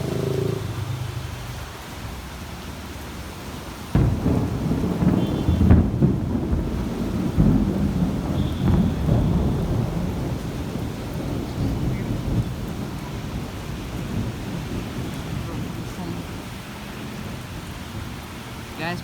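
Heavy thunderstorm with dense rain and a loud thunderclap that strikes suddenly partway through, then rolls and rumbles on beneath the steady downpour.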